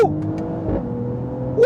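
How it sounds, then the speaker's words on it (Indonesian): Mercedes-AMG GLE 53 Coupe engine revving hard through a rapid gear change, a loud close rising exhaust note with a brief dip and crackle at the shift, no talk over it. "Dan ketika berpindah gigi, itu pindah giginya sangat cepat dan ada brak di knalpot."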